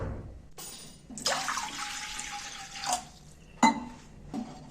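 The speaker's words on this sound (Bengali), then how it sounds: "কড়াতে আমি বেশ খানিকটা হাফ লিটারের মতো জল দিয়ে দিচ্ছি।" Roughly half a litre of water is poured into a wok set on a gas stove, a splashing pour of about two seconds followed by a few short clanks and splashes, close by with no speech.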